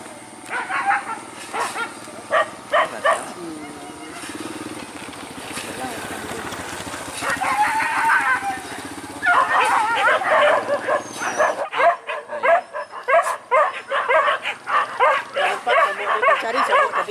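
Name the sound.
dogs barking during wild boar hunt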